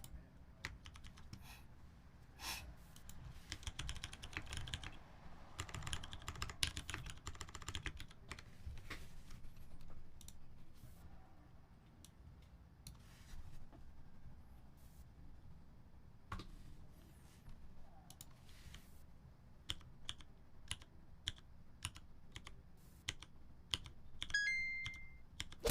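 Rapid typing on a TX-60 computer keyboard, a long run of close, crisp key clicks in irregular bursts with brief pauses and a few louder strikes near the end, quiet overall.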